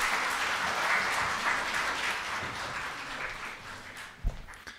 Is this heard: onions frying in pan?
no